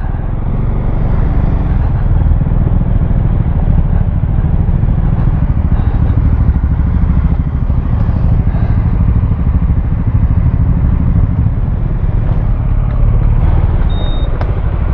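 Motorcycle ride along route 41 heading toward Samui, a steady loud engine and road rumble with wind noise running continuously throughout, no speech over it.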